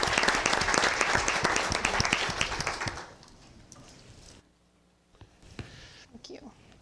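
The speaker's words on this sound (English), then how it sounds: "So let's give everybody a round of applause." An audience at a school board meeting gives a round of applause, dense clapping for about three seconds that quickly thins out and falls to quiet room sound with a few faint scattered noises.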